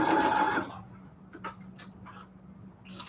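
A sewing machine runs in a short close burst of steady whirring, then stops, leaving scattered light clicks and taps from the machine over a quiet background hum.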